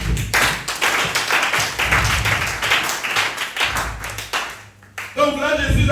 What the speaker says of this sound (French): Que les enfants de Dieu puissent applaudir un peu.